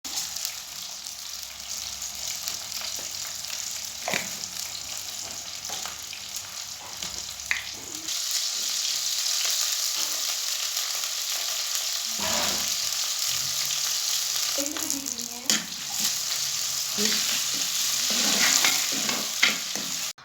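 Onions, green chilies, garlic, curry leaves, mustard seeds and fenugreek fry in hot oil, giving a steady close sizzle with occasional stirring clatter and spatters throughout, with no talk.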